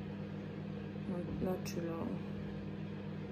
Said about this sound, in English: Can you hear that? That's my microwave.